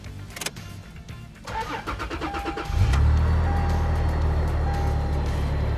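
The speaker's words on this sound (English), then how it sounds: "It's the moment of truth, our first official start with a positive pressure Toyota 4Runner." A supercharged 5th-gen Toyota 4Runner with a ProCharger kit cranks for a couple of seconds with rapid starter chatter, then catches and settles into a steady, loud, close idle that carries a faint tonal whine.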